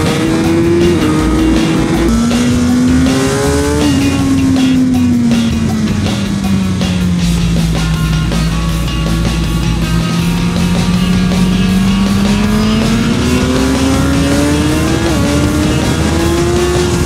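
A Suzuki GSX-R 1000 R with slightly modified mapping is ridden on a race circuit, its engine loud and close, whining steadily as the revs rise and fall through the corners with gear changes, plus wind noise.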